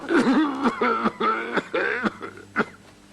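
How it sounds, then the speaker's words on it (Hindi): A patient coughs during a doctor's medical examination, a run of rough, close coughs in quick bursts with some voiced throat-clearing and breathy sounds between them. "और जोर से खांसे,"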